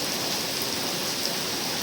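A heavy downpour keeps up around a house, runoff pouring past the walls, forming a constant broadband hiss with no talking.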